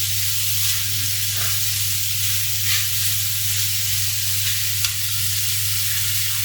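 Garlic, parsley and vegetables sizzling in a pan for a vegetable tart filling, a steady close frying hiss with soft occasional scrapes of stirring, no voices.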